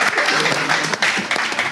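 Applause from a roast-show audience, a dense continuous patter of many hands clapping at close range, steady and loud through the whole stretch with a brief dip partway.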